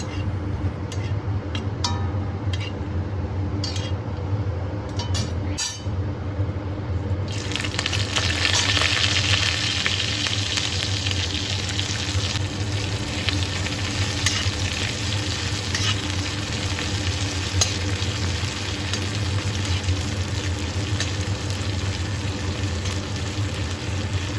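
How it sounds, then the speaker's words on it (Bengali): Chopped onion frying in oil with radhuni and dried red chillies for a kalmi greens dish cooked with dried shrimp, a steady close sizzle that swells louder partway through, with occasional stirring scrapes and no talking. "ভেজে নিয়ে এর মধ্যে দিয়ে দেব পেঁয়াজ কুচি"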